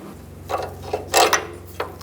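A socket ratchet clicks on a lower control arm bolt of a 2005-15 Nissan Xterra during CV axle work, with a few short bursts of ratcheting spread over two seconds, close and fairly quiet.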